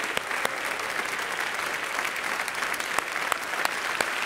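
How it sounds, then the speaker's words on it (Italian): Steady, dense clapping from a large standing audience at a Mediaset press evening, sustained throughout with scattered sharper claps standing out. "vi facciamo un bel applauso"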